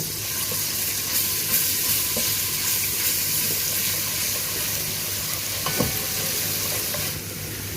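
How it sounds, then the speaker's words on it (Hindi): Steady sizzling of garlic ginger paste frying in hot oil, with occasional stirring scrapes, close and continuous without any talking. "हम इसमें डाल देंगे अपना लहसुन अदरक का पेस्ट, और थोड़ा सा इसको सौते करेंगे इसमें"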